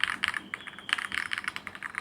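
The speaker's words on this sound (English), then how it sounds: "The typing sounds nice." Fast typing on an Epomaker Tide 75 aluminium keyboard with light linear switches, a close run of quick clacky keystrokes in an irregular rhythm, heard alone without talk.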